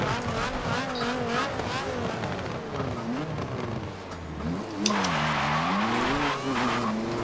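Handbrake drift in the Forza Motorsport 7 racing game, a revving engine whining up and down under long tire squeals, loud and continuous, with voices chatting over it.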